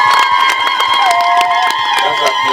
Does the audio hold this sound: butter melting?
no